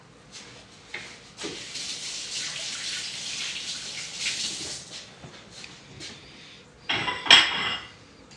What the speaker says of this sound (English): I'm going to wash my hands and then we'll plate up